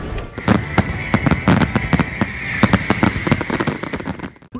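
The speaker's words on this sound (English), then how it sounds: "the Lendy Cowes Week fireworks will be going off with a bang" Cowes Week fireworks display, a rapid irregular volley of loud cracks and bangs with crackling bursts overlapping throughout, fairly close and continuous until fading at the end.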